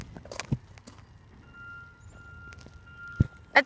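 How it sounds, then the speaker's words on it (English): A trash truck reversing at about 7 AM gives a steady, high electronic beep tone in the distance, faint but clear over quiet outdoor ambience with a few sharp knocks and thumps nearby. "I think I just heard another trash truck."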